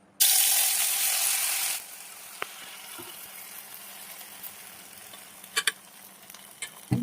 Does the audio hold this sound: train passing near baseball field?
no